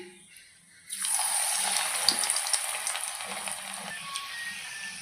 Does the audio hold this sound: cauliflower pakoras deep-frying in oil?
yes